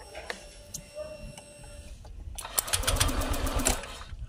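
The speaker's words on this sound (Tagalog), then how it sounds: "Nagpa-pump naman eh," The fuel pump of a Honda Click scooter primes: faint ticking comes first, then a close, rapid buzzing whir for about a second and a half before it fades.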